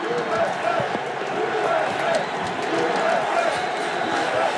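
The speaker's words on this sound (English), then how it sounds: "Pro El Salvadorian crowd here in Baltimore." A pro-El Salvador crowd roars steadily at a soccer stadium in Baltimore during a 2013 Gold Cup match against the USA, a dense continuous din with scattered shouts and no pauses.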